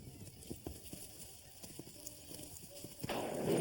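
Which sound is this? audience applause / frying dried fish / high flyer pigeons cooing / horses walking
horses walking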